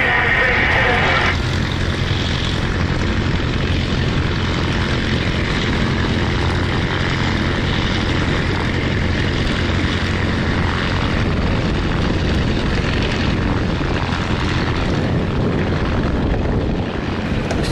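A Spitfire's propeller engine drones loud and steady throughout, and a radio call comes through faintly underneath it.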